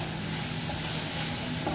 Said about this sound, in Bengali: পেঁয়াজ ভাজাটা is the most difficult part.